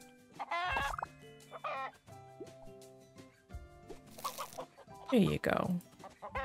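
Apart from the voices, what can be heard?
chickens clucking in the video game Big Farm Story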